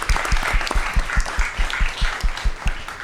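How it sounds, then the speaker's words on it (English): Audience at a school district governing board meeting gives a round of applause, a rhythmic, synchronized clapping with regular beats, close and loud against a background of scattered claps and crowd noise. "Yeah, it's a round of applause."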